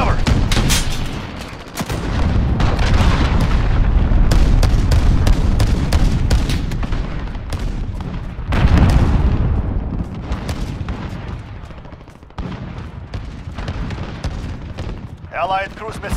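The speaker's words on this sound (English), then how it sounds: "Allied cruise missile launched." Cruise missile strike explosions in the Modern Warfare beta's Ground War mode, heavy booms and rolling gunfire crackle rumbling in repeated bursts, loud and close, with a brief radio-style voice cue near the end.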